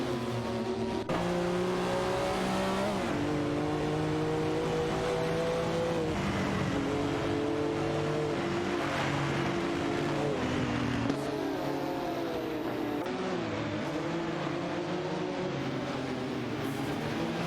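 Race cars, including a Porsche 911, battle on track in an AI-driven racing game, a continuous loud engine roar with pitch rising and dropping repeatedly through gear changes and overlapping engines, alone with no talk.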